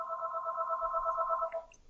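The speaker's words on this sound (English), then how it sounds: "That's my phone." A landline telephone rings indoors with one steady electronic ring lasting about a second and a half, then stops abruptly. The ring is fairly clear against a quiet background.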